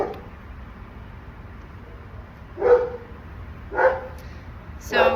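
A dog barks three times, spaced about a second apart and fairly close, during a stranger-exposure training session, with the barks standing out over a steady low background.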